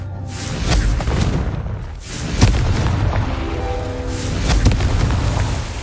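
Confringo fire spell from Hogwarts Legacy, a series of deep, booming blasts one after another, loud and close with rumbling tails and whooshes between them.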